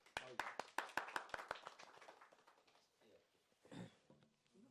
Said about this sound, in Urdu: سب کی بھرپور تالیوں میں محترم جناب فیاض حسین شاہ۔